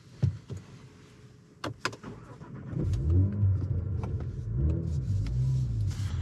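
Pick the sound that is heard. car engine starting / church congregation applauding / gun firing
car engine starting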